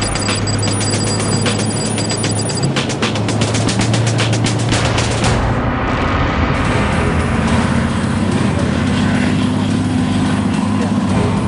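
Trojan armoured IED clearance vehicle, built on the Challenger tank, in operation in Afghanistan: a loud, dense mechanical roar with rattling bursts and clanking throughout.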